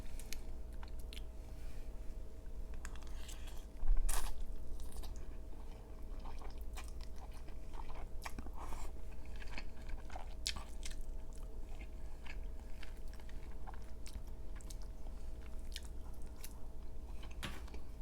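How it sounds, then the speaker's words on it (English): Close, quiet mouth sounds of someone biting into and chewing an egg during a mukbang meal of crawfish pasta and Angus sliders, with soft wet chews and small crunches over steady low background noise and one firmer bite early on. "I'm gonna go for the egg."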